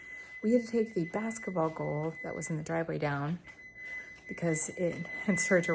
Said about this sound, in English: You can hear the timer going off now.